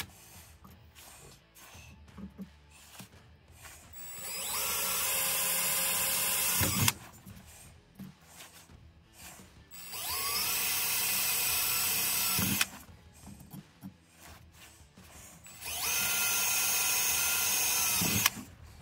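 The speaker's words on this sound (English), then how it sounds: "now what we're going to do is drill holes and tap those" A power drill bores holes into steel table legs in three sustained high whining runs of several seconds each, loud and close, separated by quieter clanking and handling noises between holes.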